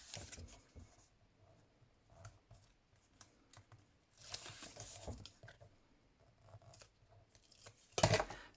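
Backing paper peeled off strips of tear and tape adhesive during paper-craft gift box assembly, heard as a series of soft, scattered crackly rips and clicks, with a louder, sharp tearing burst near the end.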